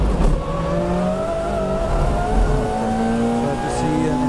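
A 2015 FIA WTCC touring race car at Paul Ricard circuit, heard onboard as its engine drones steadily and rises through an early upshift into third gear, loud and continuous, with a voice speaking over it.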